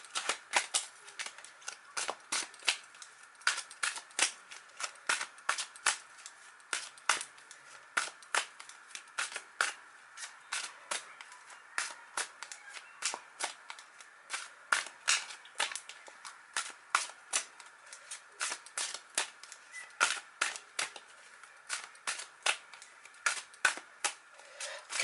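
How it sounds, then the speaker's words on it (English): Tarot cards shuffled by hand in a quiet room, a long run of crisp riffling snaps and soft slaps in irregular bursts, close and fairly faint, with no talking. "Okay, so let's start shuffling these cards."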